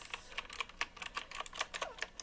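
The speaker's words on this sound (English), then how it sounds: "But look at how beautiful this keyboard is. It clicks." Keys on a retro steampunk typewriter-style gaming keyboard click in a quick, uneven run of crisp, close taps, with no voices.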